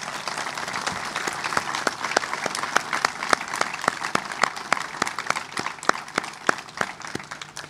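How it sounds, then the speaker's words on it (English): Sustained applause from an audience at a military retirement ceremony for a lieutenant general, steady dense clapping with a few sharper claps standing out, continuous throughout with no talking. "So if we could do a round of applause for JB."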